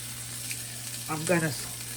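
Cheese steak meat flipped on a hot griddle gives a brief burst of sizzle over a steady low hum, rising for about half a second before settling back.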